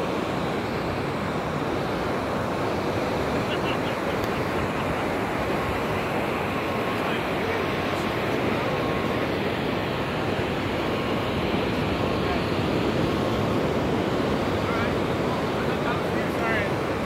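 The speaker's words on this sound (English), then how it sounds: "Wow, look at those huge waves." Large ocean waves break at Venice Beach, California, a continuous loud roar of surf with steady wind noise on the microphone throughout.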